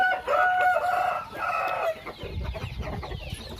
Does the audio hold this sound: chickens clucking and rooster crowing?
yes